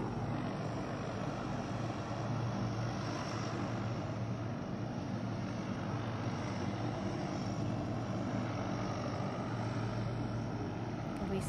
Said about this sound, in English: as you can see there, Joanne, the plane just positioning itself well around the ambulances where the patients will be taken